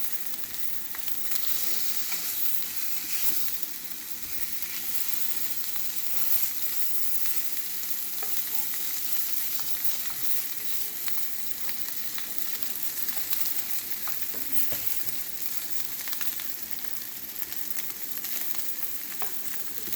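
Seafood sizzles steadily in a pan on the stove, a continuous bright crackling hiss with scattered pops, fairly quiet and alone without talk.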